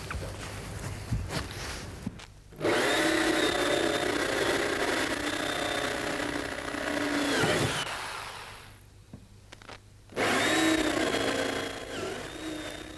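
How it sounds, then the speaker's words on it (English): A power drill with a special bit drills out spot welds on a car body, running in long sustained bursts, whining steadily, stopping briefly between runs, close by with no talking. "I'm going to drill out the spot welds with a special drill bit."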